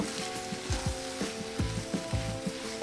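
Masala, salt and dried fenugreek leaves are mixed into a sizzling dry vegetable dish in a pan, with a steady close sizzle broken by repeated rhythmic scrapes of a spoon, no voices.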